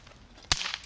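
A toy cap pistol fires a single sharp, loud crack up close, preceded by a quiet background hush and followed by a brief fizzing tail.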